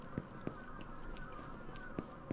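Several harsh crow caws ring out at intervals over a steady ambient soundscape in the video game Akai Onna, fairly faint and spaced apart.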